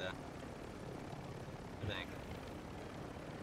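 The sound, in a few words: helicopter flying in video game Warzone 2.0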